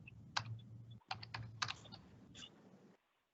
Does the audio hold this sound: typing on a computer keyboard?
yes